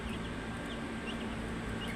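Hill chicken chicks of a large breed cluck softly and repeatedly close by, a quiet, steady murmur of small calls with no voices present.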